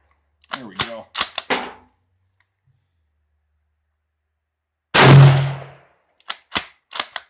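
A Yugoslavian M48 Mauser rifle fires one loud, sharp shot at an outdoor range with a short decaying echo, framed by brief clicks and short bursts of talk.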